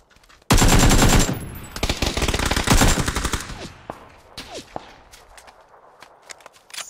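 A rapid burst of automatic gunfire in the video game PUBG erupts loudly and close, then gives way to scattered single shots and softer clicks that fade toward the end.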